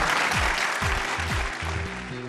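Steady applause from a studio audience at a Pakistani Eid television show, with music playing underneath throughout.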